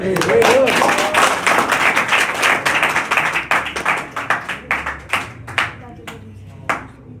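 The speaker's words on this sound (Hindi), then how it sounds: "तालियां बजा दो।" A group of students claps in a classroom, starting as dense applause that thins into a string of distinct rhythmic claps before stopping, with some voices underneath.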